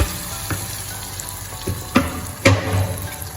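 Ridge gourd curry with curd and coriander-cumin powder sizzling in a frying pan, a steady soft frying hiss broken by a few sharp clanks of a spoon stirring against the pan.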